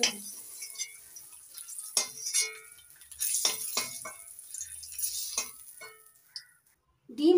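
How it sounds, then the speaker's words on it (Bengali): Eggs lightly frying in oil in a pan, with a faint sizzle and scattered soft clinks and stirring scrapes of a utensil, quiet and intermittent, ending in a brief louder scrape. "ডিমগুলো হালকা করে ভেজে তুলে নিই।"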